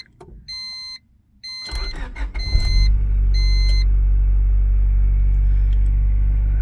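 A Honda Civic with no clutch switch starting up: dash chimes beep first, then the starter cranks and the engine catches into a steady, loud, low idle rumble nearby.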